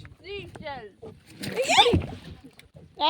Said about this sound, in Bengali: আর পাটা গিয়ে পড়লো পুরো জলের মধ্যে